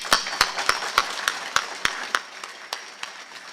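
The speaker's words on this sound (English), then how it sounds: "Could we please give them all a hand of applause?" Sparse clapping at a live televised candidate event, a handful of distinct claps in an uneven rhythm that thins out toward the end.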